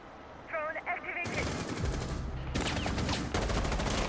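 Gunfire in the video game Rainbow Six Siege, loud sustained automatic bursts and rapid shots layered over a player's voice talking.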